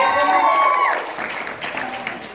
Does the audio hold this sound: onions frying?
no